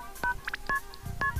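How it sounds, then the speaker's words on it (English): Phone keypad dialing tones from the rhythm game Beat the Beat: a handful of short, crisp beeps spaced unevenly, one quick double press, loud and close with no talk. "You gotta press it twice if you want to get to B."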